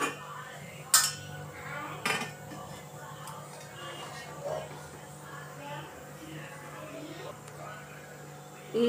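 A steel idli stand is set into an idli steamer pot in a kitchen, giving two sharp metallic clinks and then quieter handling sounds, with someone talking.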